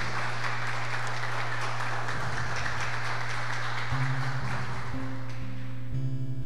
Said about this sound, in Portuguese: Vamos aplaudir a palavra da nossa salvação.